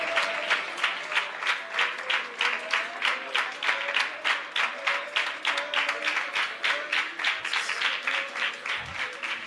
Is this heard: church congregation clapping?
yes